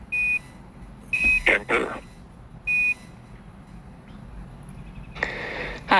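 Short, steady alarm tones sound inside the Boeing Starliner spacecraft cabin, with several evenly pitched beeps separated by pauses over a low cabin hum, and brief radio chatter between them.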